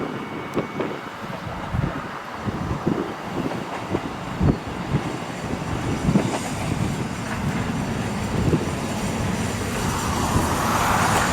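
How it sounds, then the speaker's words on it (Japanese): A two-car JR Central KiHa 11-300 diesel railcar train rumbles in steadily on the Meisho Line with rhythmic clacking of wheels, the engine noise swelling louder toward the end. No voices. "この日はキハ11型300番台の、2両編成が静かにやってきました"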